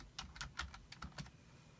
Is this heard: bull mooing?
no